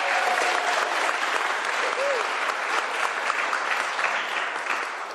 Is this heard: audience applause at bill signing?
yes